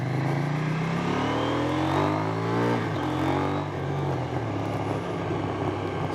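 KTM 790 Duke motorcycle accelerating hard, its engine note climbing through several quick gear changes in a continuous loud sweep, with wind noise underneath.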